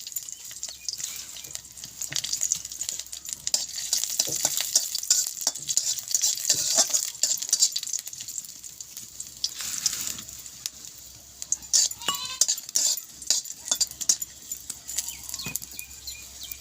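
Garlic and chilies fry in hot oil in a pan, with a steady bright sizzle and scraping stir strokes that carry on throughout.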